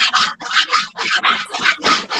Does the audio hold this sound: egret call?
no